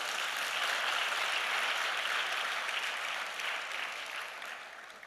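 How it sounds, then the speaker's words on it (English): Sustained applause from a large crowd, steady and dense clapping that slowly thins and fades toward the end. "I think they all deserve a big round of applause."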